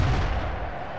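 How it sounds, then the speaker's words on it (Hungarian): Tank cannon shots in a tank football video game: heavy, booming low blasts rolling together into a continuous loud rumble of close gunfire. "Dördülnek a lövések, folyamatosan egymás lánctalpát szedik le."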